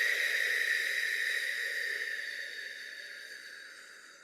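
A slow, steady exhalation during a guided grounding meditation, a soft airy breath close by that gradually fades over about four seconds with no talking.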